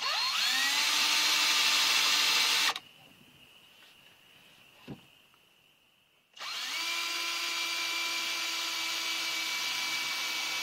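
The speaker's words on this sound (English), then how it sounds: "and I drill a hole" A power drill whirs loudly for a few seconds while drilling into a wooden board, stops briefly with a single thud in the pause, then whines up again and runs steadily.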